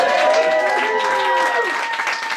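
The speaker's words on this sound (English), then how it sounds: "You guys are clapping" Comedy club audience clapping for a stand-up comedian at the Dark Room in San Francisco, a dense steady patter of applause with voices mixed in.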